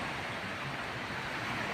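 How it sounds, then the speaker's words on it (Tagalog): Sea waves wash onto a beach at night at a resort in Sariaya, Quezon, giving a steady, broad rushing surf noise that stays at an even level with no distinct breaks. "malakas pa rin yung alon pero mukhang tataob na ito"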